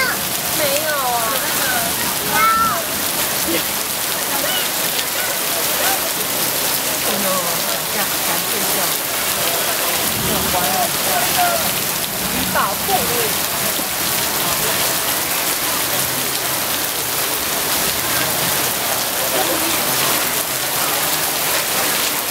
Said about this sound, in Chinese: 想说下大雨了。